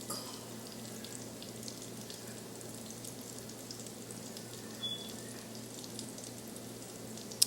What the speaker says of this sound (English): So add the stock.